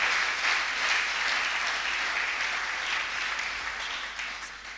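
A church congregation gives sustained, dense applause to acclaim the Lord, a broad wash of many hands clapping together that stays loud before fading slightly at the end.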